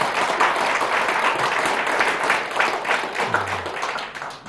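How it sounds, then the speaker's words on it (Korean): An audience at a talk claps steadily for several seconds in a dense, even wash of applause that tapers slightly at the end. "박수 한번 쳐주세요."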